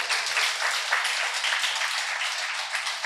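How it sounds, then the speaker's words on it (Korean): An audience at a Buddhist lecture on Hunminjeongeum applauds, a dense continuous patter of many hands clapping, even and fairly loud throughout. "이때는 원효 스님에게 박수 한번 쳐드려야 됩니다."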